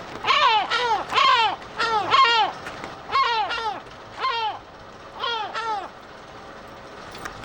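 Gulls at a nesting colony call repeatedly in loud, close clusters of squawking cries, separated by brief pauses, with no talking.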